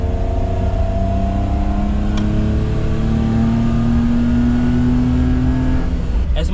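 Daihatsu Midget 2 engine and exhaust droning steadily while driving at low speed, a loud continuous buzzing tone that slowly climbs in pitch before a brief dip near the end.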